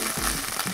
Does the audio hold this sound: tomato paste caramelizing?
yes